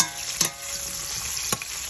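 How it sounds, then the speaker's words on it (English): Sliced vegetables for a paprika stew fry in a pan with a steady sizzle, broken by two sharp scrapes of a stirring utensil. "I'll also fry this one for 1 minute"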